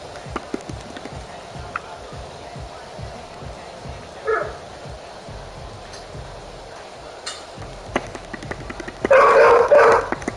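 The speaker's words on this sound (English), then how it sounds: "Why are you barking at me, son?" A dog barks a few times in a home while Madden football game commentary and background noise run, with a louder burst near the end.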